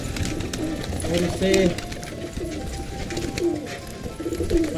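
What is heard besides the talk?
pigeons cooing on the rooftop ledge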